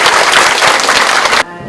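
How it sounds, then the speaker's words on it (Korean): Applause from an audience welcoming a lecturer at a volunteer training session on school-violence prevention, a dense burst of many hands clapping at once that stops abruptly after about a second and a half. "여러분 큰 박수로 환영합니다"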